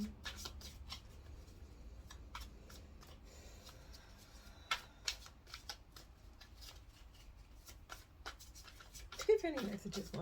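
Tarot cards shuffled by hand at a table, giving a run of short crisp riffling taps and slaps at close range, more frequent toward the end, with quiet talk in the room.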